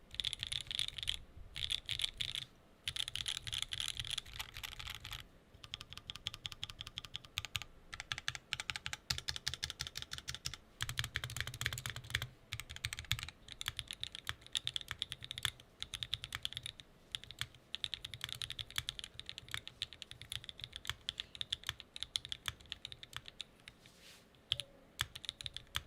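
Someone types on an Alexotos x Envoy mechanical keyboard with no foam inside, a steady stream of crisp, close keystroke clicks at a fast rhythm with brief pauses.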